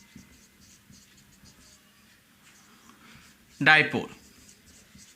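Faint, short scratchy strokes of writing on a board during a chemistry lecture, repeating in quick bursts through a quiet room, with someone briefly speaking near the end.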